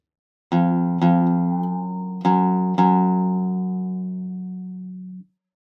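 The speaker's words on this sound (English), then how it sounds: "turning the peg outside in the opposite direction of the sound box or counterclockwise will tighten the string" Four plucked oud string notes ring out one after another, each sustaining and slowly decaying, the pitch settling as the string is tightened by turning the peg.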